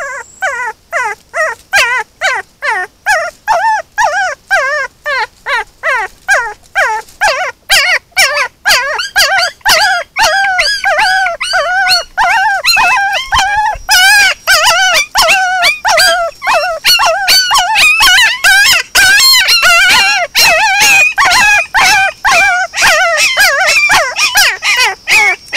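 A trapped dog whimpers and howls in a long run of repeated, rising and falling cries, close and loud, growing more frantic and dense toward the end.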